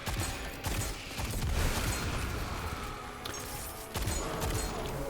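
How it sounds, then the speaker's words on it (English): Quiet, crackling bursts of orb explosions in Destiny 2, a muffled run of popping blasts and mechanical rattles spread across the moment, faint and without talk. "So there's actually an orb explosion."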